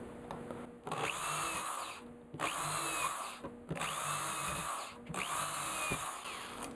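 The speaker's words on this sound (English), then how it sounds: "I'm going to pre-drill some holes." Power drill with a depth stop boring pilot holes into a wooden board in four bursts, each a steady whine that revs up and then stops, separated by short pauses, close and loud with no talking.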